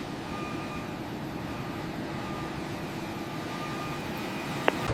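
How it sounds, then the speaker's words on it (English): A cargo freighter aircraft taxis away from a secured airport stand, its engines producing a steady, continuous broadband rumble and whine throughout, with one sharp click near the end. "Cargo freighter is clear to taxi from position 14."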